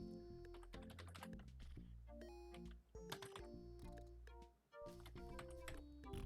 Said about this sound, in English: Don't mess with the programmer here when it comes to typing.